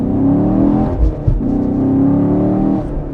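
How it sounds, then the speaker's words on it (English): A deep V8 engine in a 2018 Chevrolet Camaro 1SS 1LE rumbles and revs close up, its pitch rising and falling with a brief blip in the middle, no voices. "with a huge V8 that sounds like this"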